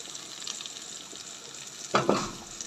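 Garlic frying in a pan gives a soft, steady sizzle that swells into a louder burst of crackling and stirring near the end, close by with no talking.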